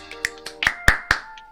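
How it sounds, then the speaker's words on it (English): Hands clapped right into an earbud microphone with noise cancellation off, six or so sharp, close claps in quick irregular succession, alone without talk. "as we're talking and clapping into the microphone"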